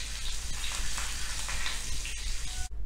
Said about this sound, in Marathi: गॅस बंद करून ही फोडणी आपण केलेल्या चटणीमध्ये घालायची